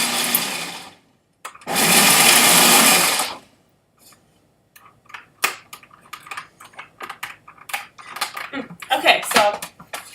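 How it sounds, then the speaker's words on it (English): A food processor grinding ingredients for raw brownie bites whirs loudly in a short burst and then a longer one, followed by clattering and tapping as the bowl and lid are handled. "So we'll put those in the food processor. Process those up, maybe for about 10 seconds."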